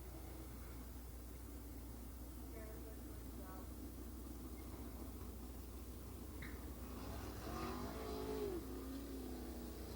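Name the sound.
sprint cars racing on track, Empire Super Sprints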